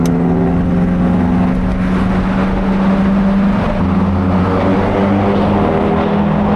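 A car engine, from a Lotus Elise or VW Golf, idles steadily with a low, rumbling drone, close by and loud throughout, with no talking.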